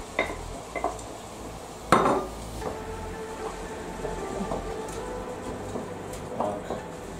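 Peppers tipped into a pan of lightly fried mushrooms, a sharp clatter followed by quiet scraping and stirring over a soft, steady sizzle.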